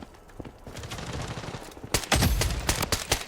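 Bursts of rapid automatic gunfire ring out in the shooter game Blood Strike, scattered quieter shots at first, then a much louder stretch of dense, overlapping volleys close by with no voices.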